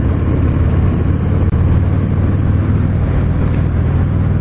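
A 2019 Harley-Davidson FXDR 114 motorcycle rides through a big sweeping corner, its engine a loud, steady, close rumble with continuous road and wind roar and no break in the sound.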